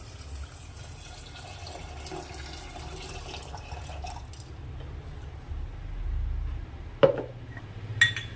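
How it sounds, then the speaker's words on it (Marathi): Water poured into a pressure cooker holding washed ingredients for Vidarbha-style ghugri, a low steady watery rush and slosh, fairly faint, ending with a couple of sharp metallic clinks near the end. "आता यामध्ये पाणी ॲड करायचं बऱ्यापैकी"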